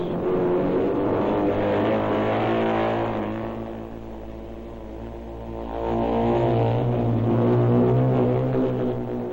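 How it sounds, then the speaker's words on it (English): A pack of motorcycle racers, with a TT rider among them, launches together at the start of a professional heat race, engines roaring loud and continuous and rising in pitch, with no speech. "The start of one of the exciting heat races."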